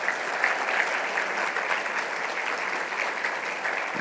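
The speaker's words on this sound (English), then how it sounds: "let's give him one more round of applause" Steady applause from a crowd, sustained clapping throughout at an even level, with no voices standing out.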